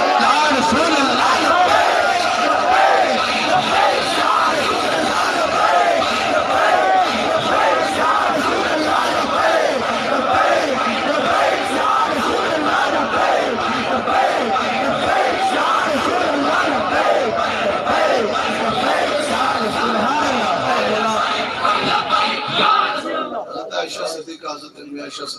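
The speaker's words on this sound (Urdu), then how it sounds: "کھلے آسمان کے نیچے لبیک یا رسول اللہ کے نعرے لگا" A large crowd at an open-air religious gathering chants a slogan in loud, rhythmic unison, sustained and dense for over twenty seconds before trailing off at the end.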